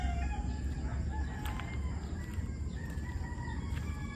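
A backyard rooster crows at a distance, its cock-a-doodle-doo rising a few times over a steady low outdoor rumble, with hens clucking faintly nearby.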